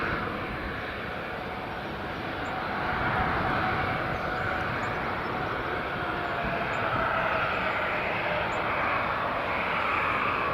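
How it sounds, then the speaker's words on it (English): Airliner landing at Edinburgh Airport, a broad sustained jet roar that swells slightly and holds steady, heard from a distance outdoors without talk. "I think we'll get the United, WestJet and Delta landing"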